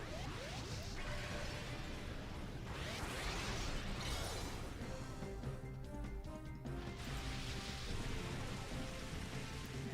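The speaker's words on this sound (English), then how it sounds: "And now it's raining." Rain falling during a battle in the Pokémon XD: Gale of Darkness video game, a steady hissing patter laid under sweeping whooshes and crashing battle effects, with no voices.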